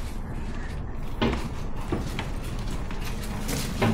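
A door being opened, giving a few close wooden knocks and thumps around a steady background hum, with a couple of sharper clacks near the start and end.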